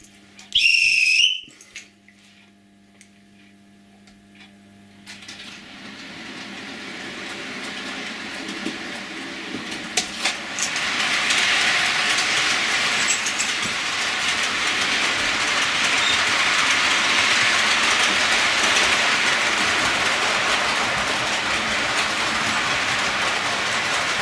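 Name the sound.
OO gauge model railway locomotives running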